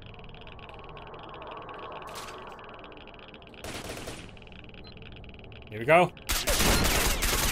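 Gunfire from a weapon in the shooter S.T.A.L.K.E.R.: Shadow of Chernobyl: a short burst of shots rings out near the end, loud and close, with someone speaking briefly just before.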